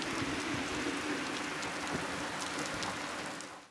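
Intense rain from a thunderstorm in Jelgava pours down hard on surfaces, a constant close roar of drops with scattered sharper splashes, fading out at the very end.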